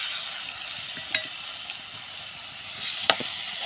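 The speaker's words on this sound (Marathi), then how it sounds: "तर ते देखील आपण थोडंसं परतून घेऊया." Ground spinach paste fries in a pan with already-fried fish, a soft continuous sizzle broken by a couple of sharp scrapes and clicks from stirring, close by and with no voices.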